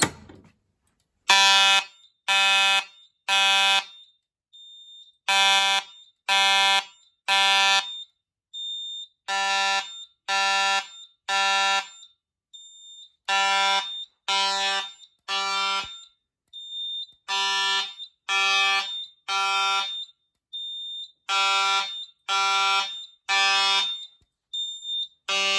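A fire alarm panel sounds after the 270 pull station is re-alarmed, giving loud electronic horn tones in repeating groups of three short blasts with brief gaps between groups, continuing steadily.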